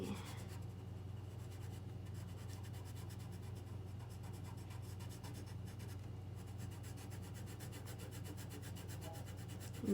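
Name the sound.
colored pencil coloring on paper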